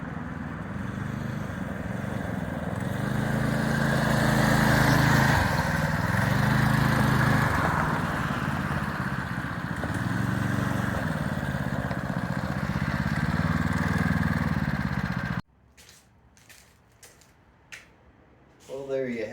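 A Heald Supertrike's small engine drones close and fairly loud for about fifteen seconds, the pitch swelling and dipping as it is throttled, then cuts out, leaving scattered knocks and thumps.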